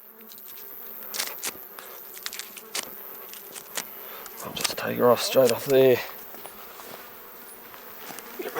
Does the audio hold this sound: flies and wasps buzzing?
yes